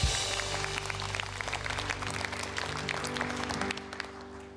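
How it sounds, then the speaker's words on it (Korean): Applause from a church congregation praising God at a Sunday service, steady dense clapping filling the room for several seconds over a sustained low organ or keyboard chord. "하나님께 더 큰 박수로 주님을 높여드립니다"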